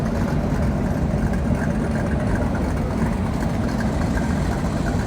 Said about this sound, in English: Cars are still coming in.